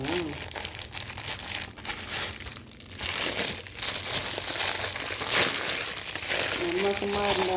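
Loud, close crinkling and tearing of plastic wrapping as a Meesho product package is opened by hand, continuous rustling throughout with a voice speaking at moments.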